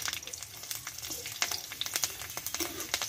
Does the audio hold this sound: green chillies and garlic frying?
yes